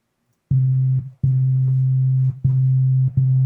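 A synthesizer plays a short sequence of four low, pure sustained notes with brief gaps between them, clean and fairly loud with nothing else.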